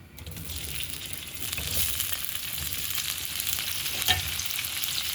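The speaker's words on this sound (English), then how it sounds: "let's just go ahead and put this into already burning oil" Steady, loud sizzling of beef frying in hot oil, a dense crackling hiss that swells slightly and carries on throughout with a brief pop near the end.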